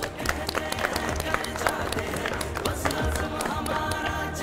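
Audience applause at the 4th anniversary ceremony of 92 News, attended by the Punjab Chief Minister and Governor: steady, dense clapping from a large crowd, sustained for several seconds at moderate level.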